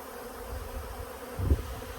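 A close cloud of honeybees hums around honey frames left out for cleaning on a farm after three honey boxes were pulled. The buzzing is constant and full, with a brief low bump midway.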